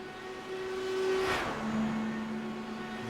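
Race cars accelerating and flashing past on a track, engine notes rising and sweeping by with a whoosh, followed by a steady mid-pitched drone as they pull away.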